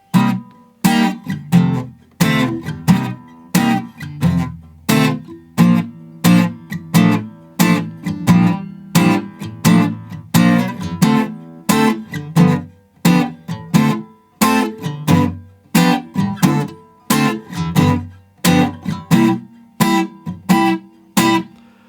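Guitar playing the bridge of a song, with steady strummed chords in a swinging rhythm that runs alone and up close for the whole passage.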